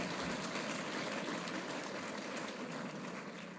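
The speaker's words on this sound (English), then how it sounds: "and applause" Audience applause at a university annual meeting, a steady broadband wash of clapping that holds evenly across the whole stretch, faint and distant, with no voices over it.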